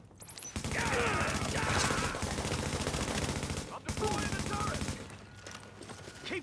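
Video game gunfire fills the clip as dense, rapid automatic bursts, loud and continuous, with a brief gap midway before the shooting resumes.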